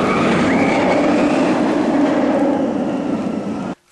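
The Nemesis roller coaster at Alton Towers running past, a loud continuous roar and rattle of wheels on track with a rising whine, sustained for several seconds before cutting off abruptly.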